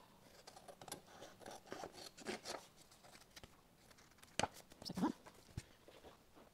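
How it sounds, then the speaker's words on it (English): Scissors snip through vintage patterned paper to trim off the excess, a handful of short dry cuts and rustles at close range, with a couple of sharper louder snips near the end and no talking. "let's just cut the excess off"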